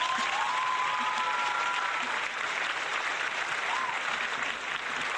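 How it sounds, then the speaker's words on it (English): Steady round of applause sustained across the whole stretch, moderately loud and evenly dense, with a faint voice or whistle rising briefly above it. "We'll give you a indoor farmer round of applause"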